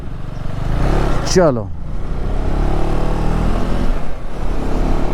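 A brand-new KTM Adventure 390 motorcycle pulls away, its engine note rising briefly with a quick rev before settling into a steady mid-pitched drone, close by, while someone talks over it.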